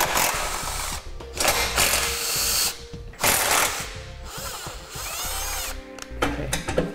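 A power tool with a 12mm socket spins bolts loose while a base plate kit is installed on a 2008 vehicle: repeated loud whirring, rattling bursts separated by short pauses, with no talk.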